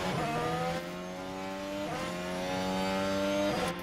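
An F1 race car in the F1 Manager game brakes with a sustained tonal tire squeal and engine whine in repeated pitched sweeps. Near and loud, with no talk over it.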